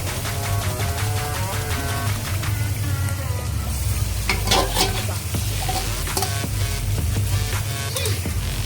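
Marinated mutton hitting hot spiced oil in a Bengali-style curry pot, giving a steady loud sizzle and frying crackle with stirring scrapes throughout, no voices.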